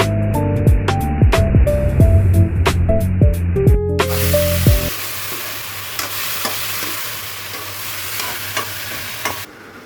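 Crab and prawns frying in a pan with Malabar spinach leaves give a loud, close crackling sizzle. Before it, clinking tonal notes sound over a low hum, then the hot fat takes over steadily.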